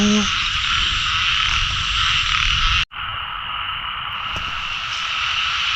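A dense chorus of frogs croaking continuously, loud and close, with a brief dropout midway before the chorus resumes.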